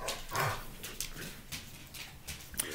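A dog whimpers and yips softly in the background, fairly faint and intermittent, with no talking over it.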